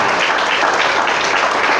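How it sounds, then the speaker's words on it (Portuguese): A church congregation claps and glorifies together in a dense, loud, continuous wash of applause, with no gaps in the short stretch. "Todos os salvos, pode aplaudir, glorificar."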